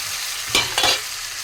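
Fried potatoes with chilli sizzle in a pan. Two quick stirring scrapes cut through the steady frying hiss in a short burst.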